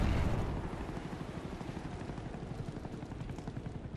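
Huey helicopter in a shooter video game flying close by, its rotor thumping in a steady rapid beat over a low engine drone, loud at first and then holding level with no talking.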